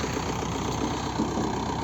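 A tractor engine idles with a steady, low chugging rumble, close and continuous.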